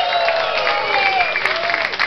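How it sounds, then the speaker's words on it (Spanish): Studio audience applause on a television variety show, a brief burst of dense clapping with faint whoops and voices over it. "Un aplauso para Roma."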